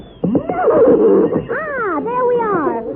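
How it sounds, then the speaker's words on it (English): A fine, fast sleigh horse team neighs and whinnies in a winter radio drama, with a close, loud, wavering call rising and falling in pitch over about three seconds. "a great big sleigh all hung with jingle bells and a fine, fast team of horses to gallop us over the snow"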